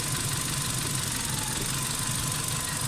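A car engine idling after warm-up with a hydraulic lifter knock, as a dense, steady close mechanical drone with a fine rapid ticking texture throughout and no voices.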